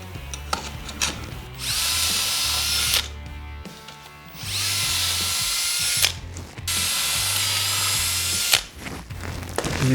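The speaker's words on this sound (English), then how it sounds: "when I'm done drilling" A power drill bores holes for a miter saw table in three long bursts separated by short pauses, whining loudly up close with ratcheting clicks in the gaps.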